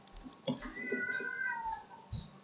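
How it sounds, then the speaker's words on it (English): A female cat in heat lets out a drawn-out, wavering yowl that bends up and down in pitch, close and fairly loud, with a few soft thumps around it. "The cat is not in distress. She is just in heat."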